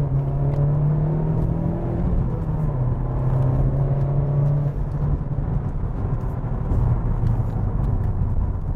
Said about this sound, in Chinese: 那我这边还有一个直线，我就可以进行一个加速